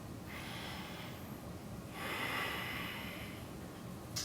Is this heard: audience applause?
no